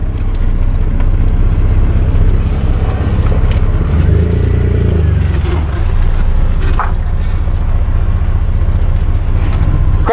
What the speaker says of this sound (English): Crank it hard!